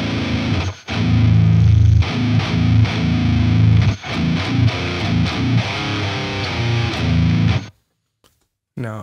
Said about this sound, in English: this is the setting of the built-in drive for the guitar tone, and this is how that sounds.